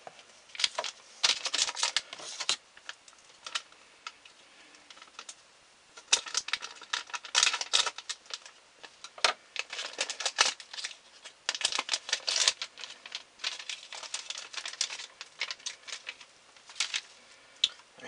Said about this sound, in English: So let's get the hard drive out.